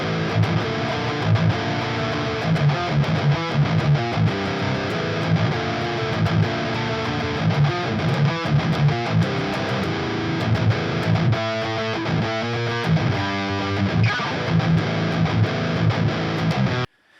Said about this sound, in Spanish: Vamos a escuchar cómo sonaría la guitarra aislada tocándola directamente con el sonido que trae de rítmica por defecto